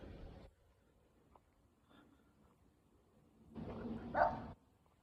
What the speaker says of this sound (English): that dog sounds like it's on a different side of the road there.